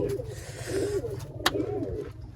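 Pigeons coo in soft, repeated rolling phrases close by, over a low steady hum, with a brief sharp knock midway.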